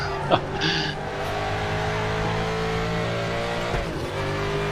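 A DTM92 Mustang race car in a sim racing game at Zandvoort holds a steady, droning engine note at high revs, with a brief tire squeal near the start and a faint voice underneath.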